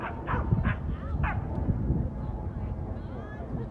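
Several dogs bark and yip at a dog park, a cluster of sharp barks early on, then quieter yelps over a busy background murmur with people talking.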